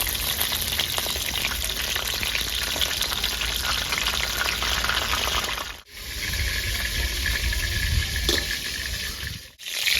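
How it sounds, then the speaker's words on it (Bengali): Cabbage frying in a pan for a homestyle Bengali dish, a steady loud sizzle and crackle filling the whole stretch with two brief dips where the frying quiets for a moment, no talking. "এই বাঁধাকপিটা আমার ভাজা হয়ে গেছে"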